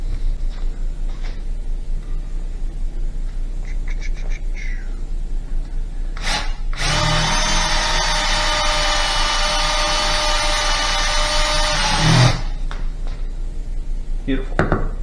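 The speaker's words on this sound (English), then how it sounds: "drill holes" A power drill bores holes in rubber motor mount pucks for a Mk3 Jetta VR6, one sustained high whine of about five seconds in the middle, with light handling clatter before and after.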